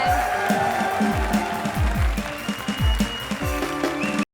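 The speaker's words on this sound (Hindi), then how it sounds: "जोरदार तालियां हमारी इस डिग्री के लिए" A studio audience at a TV comedy show claps loudly and steadily. Music with repeating deep bass thumps plays alongside, and everything cuts off abruptly at the end.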